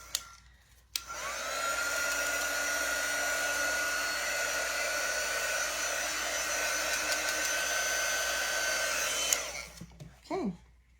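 A hair dryer spins up and runs steadily over chalk paste on a stencil for a dog sign, a loud constant airy roar with a whining motor tone, then clicks off near the end, followed by a brief handling rustle.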